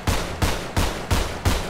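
Five sharp pistol shots ring out in GTA 5, evenly spaced about every third of a second, loud and close with no talk over them.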